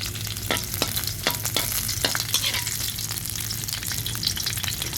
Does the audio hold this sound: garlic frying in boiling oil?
yes